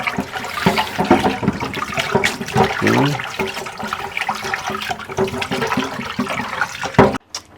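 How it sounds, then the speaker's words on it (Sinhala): Water splashes and swirls as rice is washed, with irregular sloshing and pouring sounds near and loud, followed by a sudden stop. "ඉතින් හාල් එක හොදලා ලස්සනට වතුර ටික පිහදාලා අපි යමු තියන්න."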